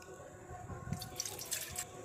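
Water trickles and splashes faintly into a blended mixture of pitted, peeled dates, a quiet series of small drips and pours in a kitchen.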